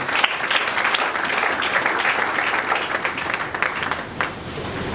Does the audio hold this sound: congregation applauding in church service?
yes